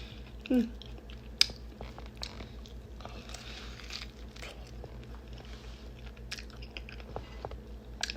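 Fresh durian is bitten and chewed up close, with soft, wet squishing and occasional faint crunches under a quiet background, plus one brief louder knock near the start.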